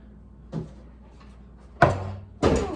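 Objects slid around inside a decorated drawer, giving three close wooden knocks and scrapes: a soft one first, then two louder rumbling slides.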